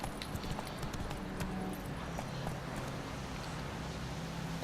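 Horse hooves beat a steady, rhythmic clip-clop in the video game The Witcher 3, continuous and fairly close over a soft outdoor ambience.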